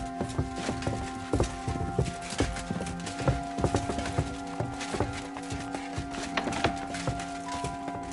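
Steady clip-clop of horse hooves in a video game trotting at an even pace, sharp and close, over a humming background.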